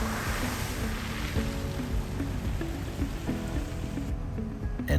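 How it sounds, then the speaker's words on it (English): A Jeep drives across a low water bridge over a creek at Hall Creek Falls Campground, the steady rush of flowing water and splashing filling the scene continuously, close and loud, with a faint engine hum beneath. "Couldn't pass up the opportunity to all take turns going across the low water bridge at Hall"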